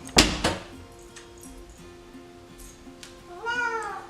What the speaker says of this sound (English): He's my cat.